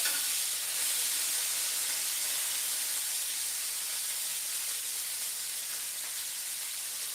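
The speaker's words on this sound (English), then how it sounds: "Let's go ahead and try to get those sides seared up." Steak searing in a hot pan for a steak-and-eggs brunch, a steady dense sizzle with fine crackling spitting held at an even level for the whole stretch, close and alone with no voices.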